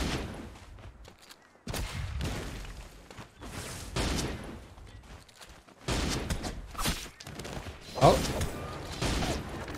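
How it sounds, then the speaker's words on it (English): Musket fire in Naraka: Bladepoint comes as several sharp, loud cracks spaced across the scene, mixed with game ambience and movement. "Oh, I heard shooting."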